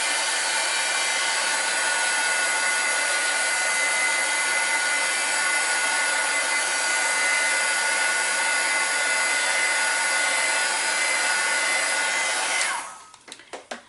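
A handheld heat drying tool blows steadily and loudly over paint layers on a handmade Christmas craft tag. The continuous airy roar holds for about twelve seconds, then cuts off, followed by a few light taps.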